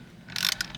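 A ratchet clicks briefly as the steering wheel bolt is tightened on a VW MK7 GLI, a quick close burst of metallic pawl clicks without speech.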